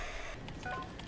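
Telephone dialing tones in a TV medical drama, a short run of clear keypad beeps heard after a burst of background noise, faint and brief.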